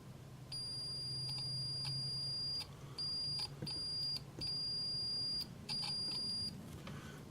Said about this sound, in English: My speaker on that meter must be going bad